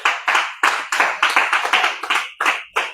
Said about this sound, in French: Nous pouvons acclamer.